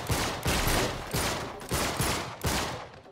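Bursts of gunfire in the action game Uncharted 3: Drake's Deception, five loud broadband volleys spaced roughly half a second apart, close and dense, with no talk over them.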